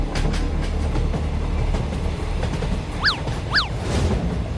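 A train runs along railway tracks, a steady loud rumble with a couple of sharp high squeals or horn-like sweeps partway through, no voices.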